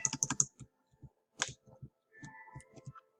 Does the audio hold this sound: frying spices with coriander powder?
no